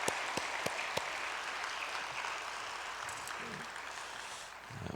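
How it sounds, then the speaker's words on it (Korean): A church congregation claps together in encouragement, a soft, steady patter heard from some distance with a few sharper claps near the start. "아무튼 큰 박수로 한번 격려하겠습니다."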